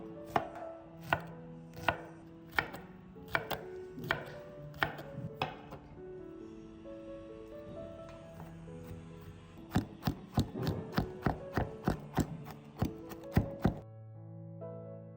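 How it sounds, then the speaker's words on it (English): A kitchen knife crushes and finely minces garlic cloves on a cutting board, sharp rhythmic chops in quick bursts separated by brief pauses, close and clear with no talking. "I use 3 garlic cloves. Crush them with a knife. Then mince them finely."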